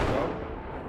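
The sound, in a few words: explosions from shelling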